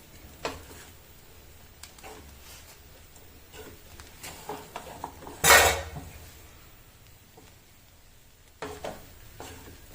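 Red poha upma with curry leaves stirred in a pan, with scattered soft scrapes and taps of a utensil against the pan and one louder clatter midway, close and mostly quiet.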